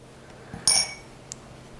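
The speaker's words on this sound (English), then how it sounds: "if I can stop clanking the spoons" Metal spoons clank together in a home kitchen while chile relleno is prepared, a bright clustered clink near the middle followed by a single light tap a moment later, with no talking.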